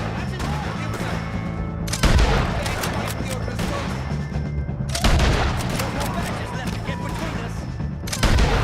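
Rapid bursts of gunfire ring out in a Red Dead Redemption 2 shootout with O'Driscoll gang members, with loud volleys at about two, five and eight seconds over a constant roar of continuous shooting.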